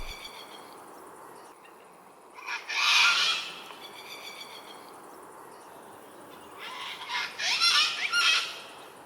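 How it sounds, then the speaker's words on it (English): Two sulphur-crested cockatoos call back and forth, one raspy squawking burst followed by the partner's answering burst a few seconds later, loud and close against a quiet background. "each bird raises the crest and call to one another in a perhaps slightly more melodious way"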